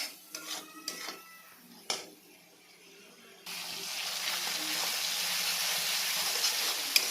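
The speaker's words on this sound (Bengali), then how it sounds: "সব একসাথে পেস্ট করে আমি হলুদ আর লবণ দিয়ে আমি মশলাটা ভেজে নেব" Spice paste with turmeric and salt frying in a pan for a katla fish kalia, a steady close hiss and sizzle filling the second half after a few scraping sounds at the start.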